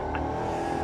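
A 1996 Chevrolet Impala SS engine pulling steadily under acceleration, a continuous low rumbling drone heard from inside the car, fairly loud and unbroken, with no talking.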